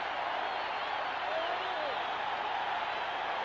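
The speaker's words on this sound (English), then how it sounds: "Listen to that crowd now." A steady, distant roar comes from a baseball stadium crowd at a 1980 Royals ALCS game and holds constant from start to finish. It sounds like a broadcast crowd with no distinct individual voices.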